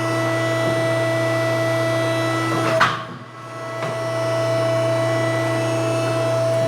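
A mandrel tube bender closing its clamp on tubing for a 1961 Ford F100 4x4, a loud steady hydraulic machine hum with a brief swelling mechanical clunk as the clamp moves in, then the hum resumes.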